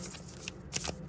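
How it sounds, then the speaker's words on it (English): Large oracle cards being shuffled by hand, a soft papery rustle with a few brighter slaps and flutters near the end, close and alone without speech. "these cards, because of their size, right, are a little difficult"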